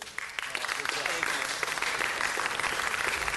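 Applause at a city council meeting honoring Vahid Markarian, principal of Santa Monica Boulevard Charter School; dense, continuous clapping from a crowd with voices mixed in.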